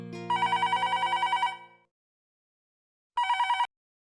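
A telephone rings in a domestic TV-drama scene: a long electronic trill of repeated pulses, a gap of silence, then a shorter second burst of ringing, loud and close with no talk.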